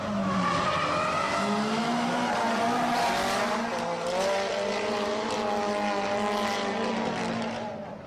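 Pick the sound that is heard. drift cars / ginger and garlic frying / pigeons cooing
drift cars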